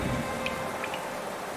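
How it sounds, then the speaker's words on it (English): Hail pattering down in a video game makes a steady, dense hiss of tiny impacts, filling the short stretch evenly with no voices. "It's fucking hailing."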